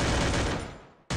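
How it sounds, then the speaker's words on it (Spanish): Dense rapid gunfire from the Free Fire video game, a loud continuous burst that fades out before another burst starts abruptly at the end. "me están disparando, creo yo"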